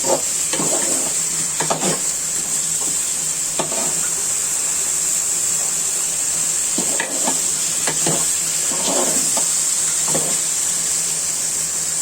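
Bottle gourd frying in a pan with garlic, onion, radhuni spice and turmeric, a steady close sizzle under intermittent scraping stirs of a spoon against the pan.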